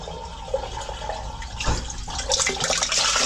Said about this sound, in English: Oh, what a flush.